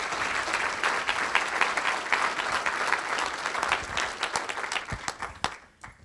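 An audience bursts into sustained applause at the closing remarks of a California education event, dense clapping from a large crowd that fades out near the end.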